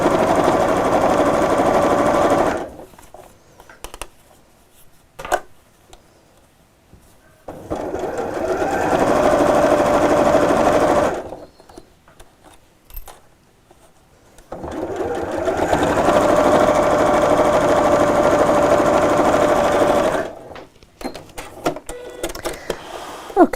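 A sewing machine stitches a quilted tote in three long bursts of fast, steady whirring and clatter, close and loud, separated by quiet pauses with small handling clicks.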